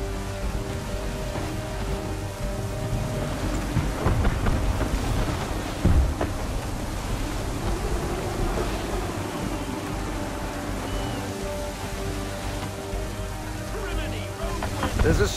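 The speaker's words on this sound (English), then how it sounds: "There's a storm coming, Captain. Feels like a big one." Heavy rain pours continuously with low rumbling thunder and gusty wind at sea in the video game Assassin's Creed III Remastered, while voices talk over the storm.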